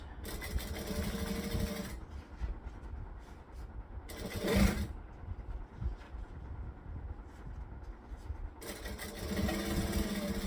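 A sewing machine top stitches a modified Taylor garment at a long 4 stitch length, running in three separate bursts with quieter handling sounds in the pauses between them.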